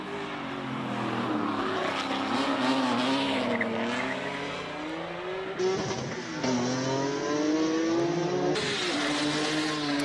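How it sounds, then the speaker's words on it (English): A rear-wheel-drive BMW E46 M3 launching at a hillclimb race, its engine screaming through rising gear pulls with sharp shifts, loud and close throughout. "You're watching Faisal Jacobs launch the BMW E46 M3."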